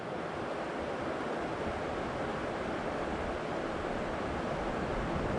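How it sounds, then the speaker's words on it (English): The Williams River runs swift and swollen with snowmelt, a dense, unbroken rushing roar heard close and loud throughout, with no voices. "Water's running pretty swift, and there is quite a bit of snow melt coming in too."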